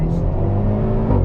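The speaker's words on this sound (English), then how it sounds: "You can really hear the turbo spool up too, which is nice." A 2021-2022 Hyundai Veloster N with a DCT gearbox, driven in sport mode, revs hard while its turbo spools up, giving a loud, steady engine drone heard from inside the cabin that rises slightly near the end.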